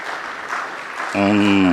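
Audience applause at a Tanzanian public address by the president, a burst of crowd clapping that gives way to a loud voice speaking through an amplified system.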